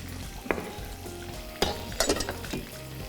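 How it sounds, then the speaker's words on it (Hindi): Onions frying and being stirred in a hot pan for achari bhindi, with a steady sizzle and a few sharp scraping clinks of the spoon, close and loud, and no talking. "आपने प्याज को बहुत ज़्यादा फ्राई नहीं करना है, ठीक है।"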